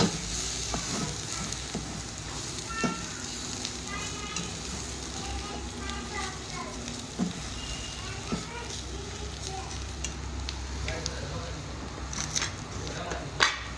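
Red chili powder and turmeric sautéed in hot oil for Khandeshi shev bhaji, giving a steady close sizzle with occasional stirring scrapes. Someone talks over it throughout.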